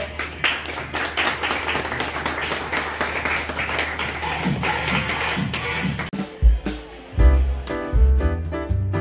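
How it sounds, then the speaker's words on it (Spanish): An audience at a restaurant cooking show applauds in a dense, even wash of clapping for several seconds, then it breaks off into louder thumps and music-like tones. "Un aplauso"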